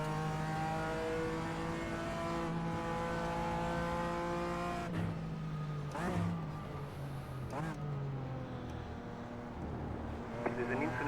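LMP3 prototype race cars in a rainy iRacing session at the Roar, engines droning and revving with shifting pitch as cars pass and brake, a steady loud mix of several engines with no talk.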